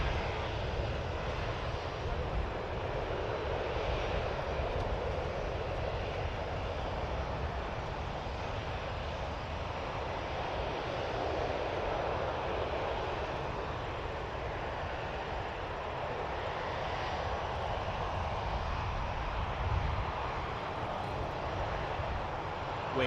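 An Air Canada airliner at Toronto Pearson Airport roars steadily with broadband engine rumble and rushing noise throughout, heard from a distance at constant level, with no clear talk over it.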